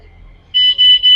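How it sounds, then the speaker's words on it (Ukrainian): A bicycle alarm beeps in a market, with a shrill, loud electronic tone switching on after a quiet stretch and then pulsing in long beeps with short gaps. "Що воно пищить? Ой-ой, це, мабуть, велосипед так пищить."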